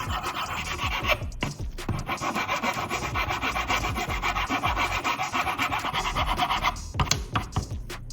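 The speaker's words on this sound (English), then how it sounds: "I need to carefully sand the cut surface to make it smooth and even" The cut end of a paintbrush handle is sanded with rapid back-and-forth rasping strokes, close and steady, with brief pauses near the start and toward the end.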